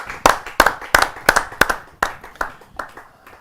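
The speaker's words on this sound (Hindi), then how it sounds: "मैं बुलाना चाहता हूँ विश्वविख्यात ओज के कवि आदरणीय बड़े भाई श्री राजेश चेतन जी को आप सबकी जोरदार तालियों से।" Audience at a Hindi poetry event clapping to welcome a poet, in a series of sharp, loud bursts that gradually taper off, with no voices over it.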